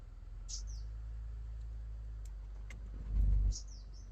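A car idles with a low steady rumble at a forest stay in Tapola, the engine swelling briefly louder near the end, while a few high bird chirps sound faintly overhead.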